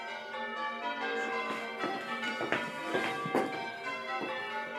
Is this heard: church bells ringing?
yes